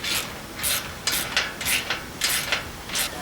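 A bolt and nylon lock nut being tightened on a Polaris Ranger 1500 XD bed rack, giving a series of close, rhythmic ratcheting rasps in quick bursts with no talking.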